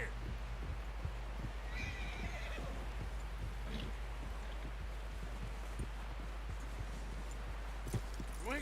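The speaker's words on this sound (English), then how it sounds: "Someone help John down off this horse" A horse whinnies amid steady clip-clopping hooves, with faint voices and a constant low hum underneath, in the video game Red Dead Redemption 2.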